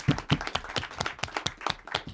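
Sparse, uneven clapping from a small audience at a circus show, a handful of distinct claps spread over a couple of seconds rather than a full ovation.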